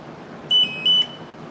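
Two short electronic beeps sound close by, a warning tone from a Walker mower left with its key on, each beep about a fifth of a second with a brief gap between them.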